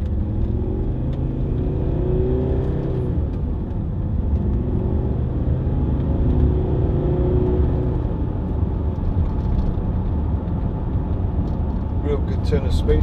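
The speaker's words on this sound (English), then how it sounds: "Real good turn of speed for a very big car." A Volvo XC60 2.4 D5 SE Lux five-door diesel SUV drives along a road, with a steady close engine drone and road rumble that swells slightly as it picks up speed.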